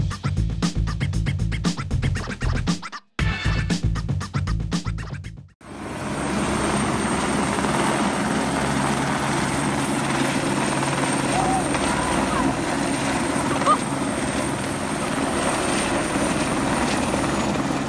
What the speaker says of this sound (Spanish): los helicópteros de extinción sacaron agua de las piscinas de los habitantes de la zona